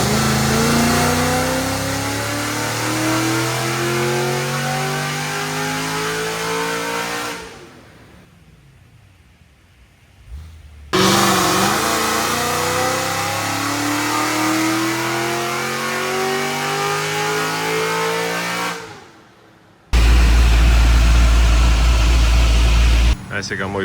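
A tuned Ford GT500, Corvette C7 Z06 or Cadillac CT5-V Blackwing revs loud and close on a dyno, rising through long full-throttle pulls that drop away into quiet pauses between runs, with a sharp burst at the end.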